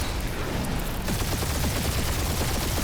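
Dense sustained gunfire from Marvel's Guardians of the Galaxy combat, rapid overlapping shots forming a continuous loud barrage that stays intense for the whole stretch.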